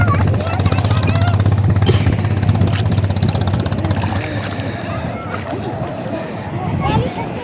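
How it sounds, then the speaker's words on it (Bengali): Fishing trawler racing across the sea off Cox's Bazar beach, its engine droning loudly and steadily with wind and surf noise, people talking over it. "চলে আসছে মাছ ধরা ট্রলার, আর স্পিড বোটের মতো কত জোরে যাচ্ছে"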